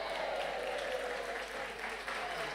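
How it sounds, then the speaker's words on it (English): Distant, faint applause from an audience at a school pitching event, steady and soft across the whole stretch. "With a round of applause, let's give it to our rector"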